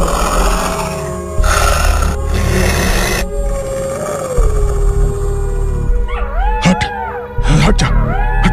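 A fox growls at a man in a spooky horror-story scene, with a steady rumbling drone early on and then wavering, howl-like animal cries rising and falling near the end.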